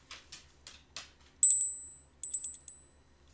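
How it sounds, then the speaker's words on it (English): A small motorcycle gremlin bell rings in bright, high, sustained tinkles: a few soft taps first, then two louder rings that linger and fade, heard alone in a quiet room. "Do you guys know what a gremlin bell is?"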